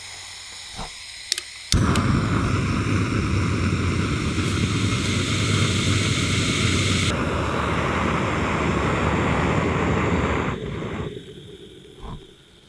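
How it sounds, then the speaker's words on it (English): A Jetboil camping stove in a forest starts abruptly after a couple of clicks, its steady, loud roaring burner hiss holding for about nine seconds while boiling water, then cutting off sharply. "It's always incredible to me how fast these jet boils work."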